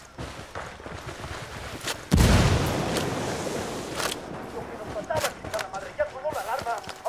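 A grenade explosion in the video game Ghost Recon: a sudden loud boom that rolls off into a long rumble, followed by scattered gunfire cracks, all fairly close.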